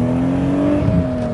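A modified BMW E36 M3 engine revs hard, producing a loud, steady, sustained roar close by.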